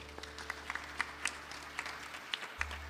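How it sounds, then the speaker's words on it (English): A temple gathering on the fifth day of Vasant Navratri claps for a girl's sweet sixteen birthday, a sparse, soft scattering of hand claps at moderate distance over a low steady hum. "Please clap for her."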